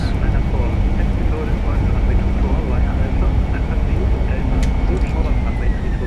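Jet airliner landing with thrust reversers deployed in Microsoft Flight Simulator, a Fenix airliner arriving at Cologne: a loud, steady broadband engine roar fills the whole stretch without a break.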